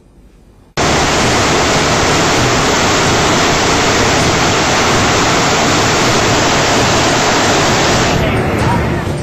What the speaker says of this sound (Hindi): सामने पानी की प्रचंड लहर और टापू पर फंसी जिंदगी। चारों तरफ तबाही का सैलाब, आगे गर्जना करती नदी।